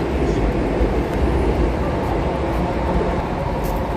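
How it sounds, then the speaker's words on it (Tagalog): The MTR Express airport train passes near Tsing Yi in Hong Kong as a heavy, steady rumble with a broad roar. It stays loud and continuous through the whole short stretch. "yung train ay MTR Express going to airport"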